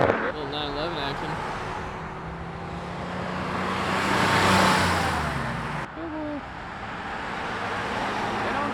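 Porsche 911 accelerating away from a car meet, engine note rising and swelling as it pulls off, with traffic noise around and people talking over it.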